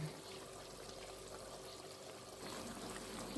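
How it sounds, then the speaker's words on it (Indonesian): Instant coconut milk pours steadily into a cooking pot of vegetable curry with papaya flowers and gedi leaves, a soft continuous liquid stream trickling at low level throughout. "Sekarang saya masukkan santan. Karena saya mau pakai santan instan ya."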